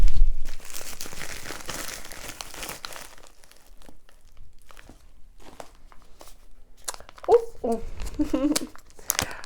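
Plastic packaging crinkles and rustles as an AliExpress parcel is unwrapped, close by, with soft handling noises and a few brief vocal sounds near the end.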